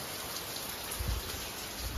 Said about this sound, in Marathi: इकडे पाऊस बघा संध्याकाळी निस्पडत आहे